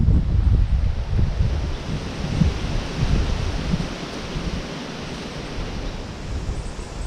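Strong, gusting wind roars continuously outdoors as a storm approaches, with a broad, rushing noise and buffeting against the microphone that swells and eases without any talk.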